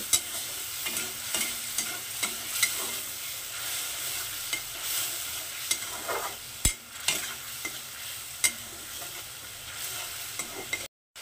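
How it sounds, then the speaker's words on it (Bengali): Spice paste of chilli, turmeric and salt stir-fried in oil for a vegetarian mung-and-pointed-gourd curry, a steady close sizzle broken by repeated scraping strokes of a spatula, with no talk. "মশলাটাকে সুন্দর করে আমি কষিয়ে নেব একদম তেল বেরোনো পর্যন্ত।"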